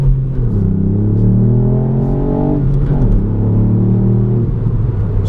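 A 2019 Ford Fiesta ST MK8 pulls hard under acceleration, its engine note climbing steadily through the gears with a brief dip at a shift, loud and continuous from inside the cabin with no talking.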